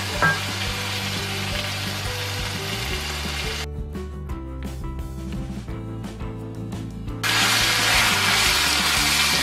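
Rice and tomato sizzle and fry steadily in a hot pan, with occasional stirring scrapes and a louder crackling burst near the end.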